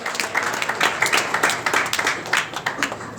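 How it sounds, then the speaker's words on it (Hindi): An audience claps for a guest at an agro products company event, a burst of dense, lively applause lasting throughout. "एक जोरदार ताली इनके लिए"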